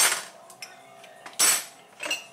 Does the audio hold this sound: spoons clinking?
yes